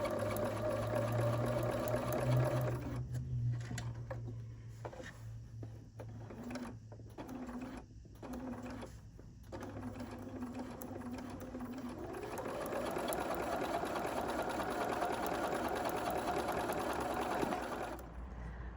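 Sewing machine stitching around the edges of an autumn quilt, a steady, close mechanical whirr with rapid needle chatter that pauses briefly several times, then runs on continuously.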